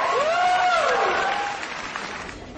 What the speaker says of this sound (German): Großen Applaus für alle.